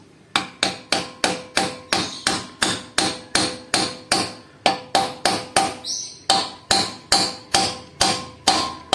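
Metal hammer striking a Honda CB motorcycle engine part, a long run of loud, evenly spaced ringing blows with a brief pause midway, with no talk.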